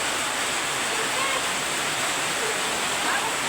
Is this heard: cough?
no